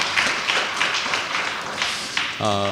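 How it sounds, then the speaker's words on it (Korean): Audience clapping at a pastor's installation service in a Korean church, fairly close and moderately loud, with individual claps distinct in an uneven rhythm that gives way to a voice at the very end. "우리 응원하는 마음으로 다시 한번 박수해 주시고"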